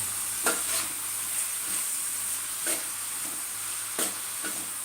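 Chicken curry frying in a pan while a spoon stirs it, a steady close sizzle with a few louder scraping strokes, no talking.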